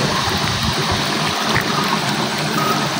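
Steady broadband rush of flowing river water, continuous and fairly loud, with no voices over it.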